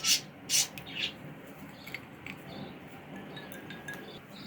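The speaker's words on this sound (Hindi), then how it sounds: "अब हम इसके अंदर क्यूब्स डालेंगे" Ice cubes drop into a glass of almond milk, three bright, close clinks in quick succession at the start, followed by faint rubbing and quiet background noise.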